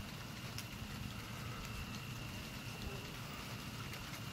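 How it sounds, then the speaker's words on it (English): Steady rain from a popup thunderstorm in Oklahoma falls outdoors in big drops, a dense even patter on surfaces with no talking. "Now it's raining mostly. Big raindrops. Huge raindrops."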